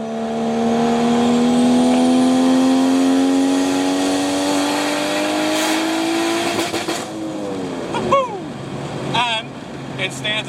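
A loud car engine revving up high and held, then dropping and blipping a few times.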